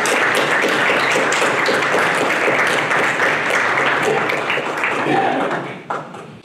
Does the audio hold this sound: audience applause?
yes